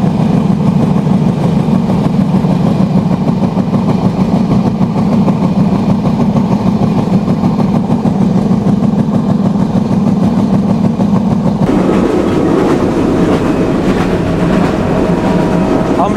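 Kapotaksha Express train rolling on rails past Rupdia railway station in Jessore district, a steady loud rumble with rhythmic wheel clatter, the tone shifting partway through as the track noise changes.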